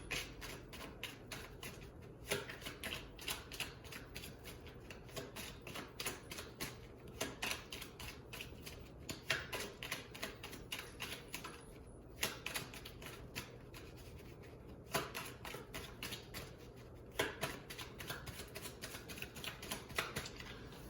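Tarot cards being shuffled again and again, crisp fluttering riffles close by, repeating in bursts every couple of seconds with no talking.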